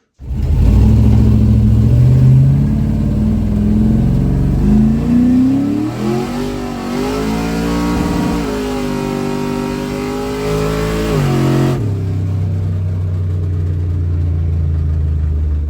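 A Chevrolet S10 truck fitted with a 6.0L V8 roars loudly as it pulls away and accelerates, the engine note climbing and falling through the gears before settling to a lower drone.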